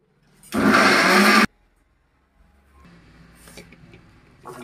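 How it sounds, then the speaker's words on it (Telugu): A mixer grinder gives one short, loud whirring burst of about a second as onions and green chilies are coarsely ground, then stops abruptly, followed by quieter handling clatter. "ఉల్లిపాయలు పచ్చిమిర్చిని కచ్చాపచ్చగా ఇవి కూడా మిక్సీ పెట్టుకోవాలి"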